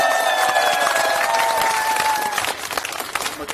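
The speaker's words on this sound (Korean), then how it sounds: "자, 한병도 의원님께 다시 한번 뜨거운 박수 부탁드리겠습니다." Loud crowd applause at a political rally in Gunsan, dense clapping with a few cheers and whistle-like tones early on, easing slightly toward the end.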